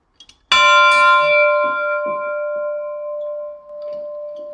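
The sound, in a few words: Dobson church bell being rung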